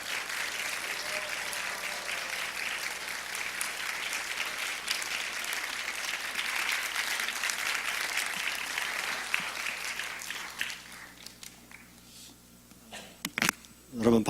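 A church youth worship audience gives a long burst of loud, dense applause welcoming a professor to the front, holding steady before thinning out and fading near the end.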